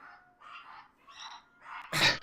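A dog barks several times in a row, moderately close and fairly loud, the short yelps ending in a sharper, louder bark with no talking over it.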